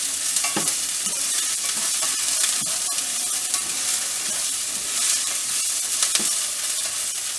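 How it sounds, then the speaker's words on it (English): Chopped white vegetable pieces fry in a hot pan for sweet and sour chicken, a bright steady sizzle broken by repeated close scrapes and clacks of a stirring utensil, no voices. "you're going to Cook them, keep stirring them until they're nice and tender"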